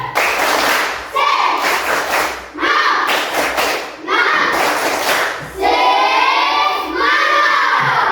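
A standing class in a teacher performance-test lesson does a rhythmic spirit clap: loud, patterned bursts of group clapping with short pauses between rounds, mixed with children's voices calling along.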